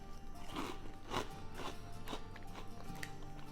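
Shrimp chips crunch in a series of soft, close bites, about five brittle crackles spaced roughly half a second apart over a quiet room hum, no talking.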